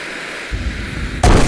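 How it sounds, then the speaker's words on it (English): A large cartoon bomb blast in the mobile puzzle game Toon Blast: a rumbling build-up followed by a sudden loud, booming burst right at the end. "it's just going to be one gigantic bomb"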